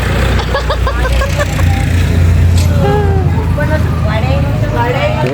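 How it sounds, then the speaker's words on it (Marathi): A tractor rumbles past with a low engine drone in the countryside, moderately close, while people talk over it throughout. "तो बघा ट्रॅक्टर गेला"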